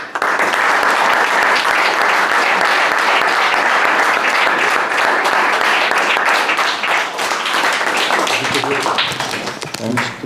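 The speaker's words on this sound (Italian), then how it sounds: "credo che un applauso a chi ha fatto un passo indietro." Applause at a town council meeting in Vione, a dense burst of clapping from the room that holds steady, then thins and fades toward the end with a few voices underneath.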